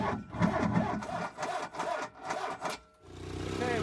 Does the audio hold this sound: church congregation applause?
no